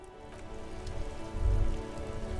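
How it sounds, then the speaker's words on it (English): Steady rain patters across surfaces in a video game scene, a dense even hiss that swells slightly louder midway, with no voices. "It's raining again."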